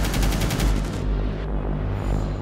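Dense bursts of gunfire in a Rainbow Six Siege match, loud and continuous for the first second, then thinner shots and rumble carrying on with no talking.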